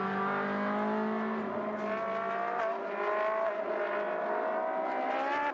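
Onboard engine of a Ferrari race car in the Trofeo Pirelli at Mugello, a loud, steady high-revving whine with rising and shifting harmonic pitch as it accelerates through gears, continuous throughout with no talk.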